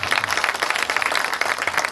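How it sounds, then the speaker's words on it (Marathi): An audience at a devotional kirtan gathering claps after children play the mridang: dense, steady applause from many hands, close and lively, with no talk. "टाळी वाजवाय सगळ्यांना"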